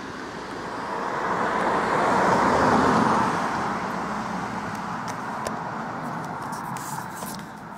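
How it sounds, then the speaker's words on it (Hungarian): A single car passes on a quiet road, a broad whoosh swelling to a peak at mid-distance and then fading away, with faint ticks and hiss trailing after it. "Egy-egy autó."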